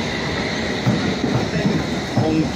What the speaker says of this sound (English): We have an underground train that's come in